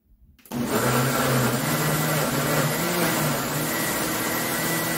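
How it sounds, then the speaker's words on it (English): A blender whirs up after a brief quiet moment and runs steadily at a constant medium speed blending Jamaican jerk sauce ingredients, loud and close. "just blend all these ingredients together"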